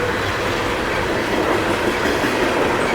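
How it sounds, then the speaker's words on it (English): A CSX loaded coal freight train with several locomotives rolls past in Germantown or Boyds, Maryland, bound from Grafton, West Virginia to Baltimore, a loud, close, continuous roar of wheels and cars with faint rhythmic clatter. "Loaded coal train here."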